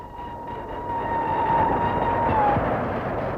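A train on 1950s British Railways moves through a railway station, its low rumble swelling and holding steady, with a thin sustained whine riding above it for a couple of seconds before fading.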